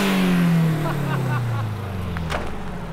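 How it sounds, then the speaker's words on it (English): A Subaru WRX STI GC8 engine in an ultra-rare two-door car is revved hard, then its pitch sweeps down and it settles back toward idle, fairly close, with faint voices underneath. "All right, we'll give it a rev."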